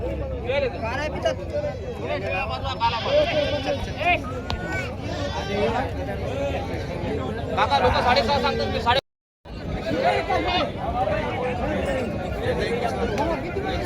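Goats bleat repeatedly amid a busy crowd at a goat market in Vasmat, Hingoli district, with overlapping voices and market chatter throughout.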